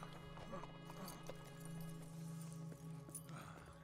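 Horses in the Red Dead Redemption 2 video game clop their hooves and let out a whinny, quiet and steady beneath a sustained droning musical tone.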